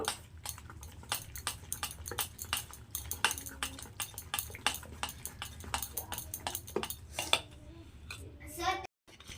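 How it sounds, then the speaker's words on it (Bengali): Grated carrot, chopped capsicum and coriander being mixed into a semolina batter in a bowl, a quick run of sharp spoon clinks and scrapes against the bowl, close and fairly quiet, stopping abruptly near the end. "তো এগুলো এখন আমি খুব ভালো করে একসঙ্গে মিশিয়ে নেব"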